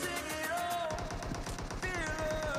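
Automatic gunfire rattles in rapid bursts through a solo match of a shooter video game, moderately loud and continuous across the clip, with layered game sound behind it.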